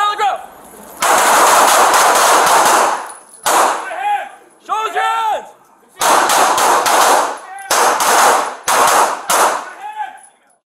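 Gunfire captured on a police body-worn camera during an officer-involved shooting, with loud bursts of rapid shots repeating across the clip and short gaps between them. Shouting voices can be heard between the bursts.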